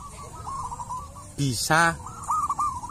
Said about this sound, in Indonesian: Niki peksi perkutut lokal alam gacor